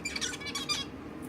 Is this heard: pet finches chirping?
yes